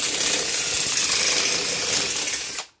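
A power drill bores out a bolt hole in a motorcycle chicken delivery box, a steady whining grind running close and loud for nearly three seconds before cutting off abruptly.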